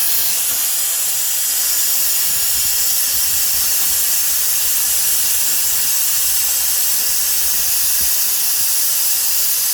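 Compressed air blasting water back out of a car part during cleaning at a repair shop: a loud, steady, broad hiss of air and spray, close and unbroken for the whole clip, with no talking.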